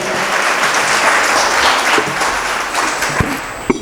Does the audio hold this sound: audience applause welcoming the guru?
yes